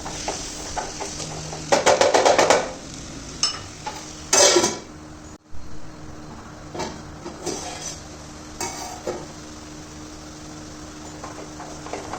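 Chopped amaranth greens being stirred into a tempering in a pan, with scattered metallic scrapes and clinks of the spoon against the pan, a few louder clattering bursts, then quieter intermittent stirring.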